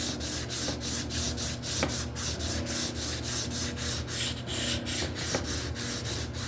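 Steady, rhythmic abrasive rubbing scrubs rust from a Ford 2.3 turbo engine block, a loud close-up scraping repeated in quick even strokes with no talk.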